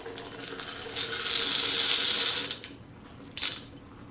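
Home-dehydrated corn kernels are poured from a tray liner into a jar, giving a dense dry rattling patter for a couple of seconds, then a short second trickle after a pause.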